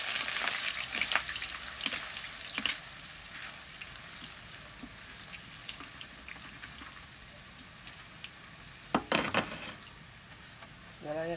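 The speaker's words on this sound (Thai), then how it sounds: "ทอดให้หมดนี่นะคะ" Banana slices deep-frying in hot oil for caramel-coated banana chips, a steady broadband crackle with occasional sharper pops and clinks near the end, with a faint voice in the background.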